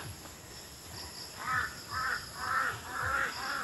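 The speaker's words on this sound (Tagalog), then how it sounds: "May uwak." A crow caws four times in a steady rhythm from a short distance on a darkening mountain trail near Little Tagaytay, harsh calls standing clearly over faint insect and background noise.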